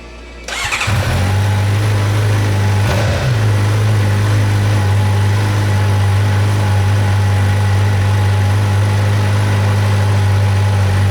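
A 2011-2015 Suzuki GSX-R 600 sport bike starts up and settles into a steady, loud idle, the even engine hum running alone close by for several seconds.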